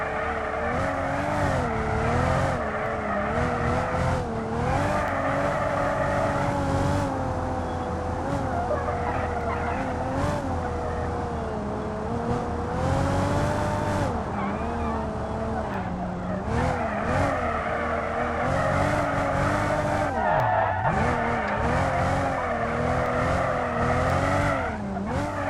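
A bus in BeamNG drifts with a steady engine drone and continuous tire squeal that wavers in pitch as it slides, loud and sustained throughout with no pauses.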